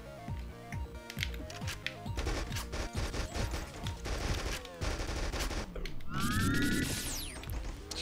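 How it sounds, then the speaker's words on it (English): Bounce rifle fire in the video game Battlesloths, a dense rattle of rapid shots and ricocheting impacts over busy game music and effects, loud and continuous throughout. "Bounce rifle."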